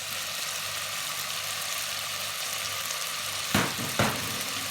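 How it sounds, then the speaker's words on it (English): Bell pepper, onion and tomato sauteing in a pot for Bajan green peas and rice, giving a steady, even sizzle close by, with two brief clanks of a spoon near the end. "Give it a stir and allow these to saute for a bit"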